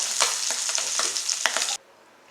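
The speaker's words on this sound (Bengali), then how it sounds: "এই যে রুই মাছটা ভেজে নিচ্ছি" A rohu fish head fries in hot oil in a pan. Loud, close sizzling crackles steadily with stirring scrapes, then cuts off abruptly near the end, with no voices.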